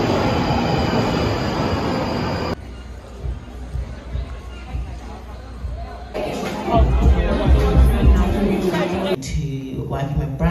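London Underground metro train running, a steady loud rumble and rattle of carriages with squealing wheels, shifting in intensity as it moves through the tunnel and then fading, with faint crowd murmur.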